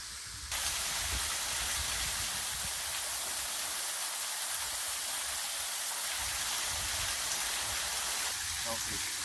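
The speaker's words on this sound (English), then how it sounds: "up the Kilkris River by this beautiful waterfall" Steady, dense roar of a waterfall on the Kilkris River in Tillamook County, Oregon, a close and continuous rush of falling water that fills the whole clip at an even loudness.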